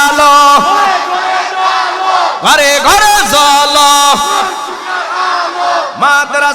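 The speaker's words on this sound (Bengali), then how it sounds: "সবাই মিলে একই তালে দাও না স্লোগান নারায় তাকবীর" A large crowd at an outdoor religious gathering in Bhola loudly chanting the Islamic slogan Naraye Takbir in unison, the massed voices rising in rhythmic swells and surging again toward the end.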